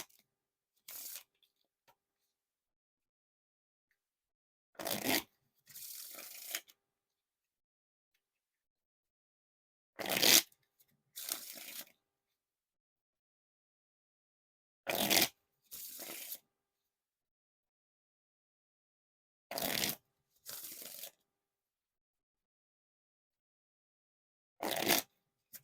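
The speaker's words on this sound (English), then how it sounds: "Now time for the riffle shuffles or bridge shuffle." Riffle shuffles of a Theory11 Madison Players deck of playing cards, heard as five crisp, close bursts of rapid card flutter spaced about five seconds apart, each followed by a short bridging riffle, with silence in between.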